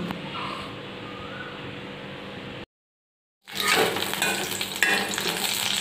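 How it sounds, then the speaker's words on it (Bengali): Potatoes frying in oil in a wok, with a steady sizzle, a brief silent gap, then a louder burst of crackling and stirring close by. "এবার কড়ার মধ্যে একটু তেল দিয়ে আগে আমি আলুটা ভেজে উঠিয়ে নিই"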